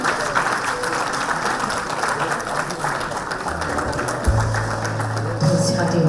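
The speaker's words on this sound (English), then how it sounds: "let's welcome the guest of the days with a big round of applause" Audience applause welcoming the guest at a BSNL Bharat Fibre Championship League felicitation event in Kodaikanal: a steady, moderately loud wash of clapping that holds throughout, with some low rumble and a tone entering near the end.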